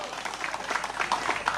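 Scattered clapping from attendees at a Toyota Fortuner owners' club national meetup, uneven and moderately loud with individual claps standing out, lasting under two seconds.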